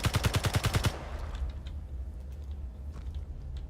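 A rapid burst of automatic gunfire in Space Engineers, about eight quick loud shots in under a second, then quiet rumbling ambience with faint clicks.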